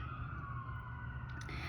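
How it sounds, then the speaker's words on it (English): An emergency vehicle siren sounds faintly in the background as a steady, sustained wail. "sorry about the sirens in the background."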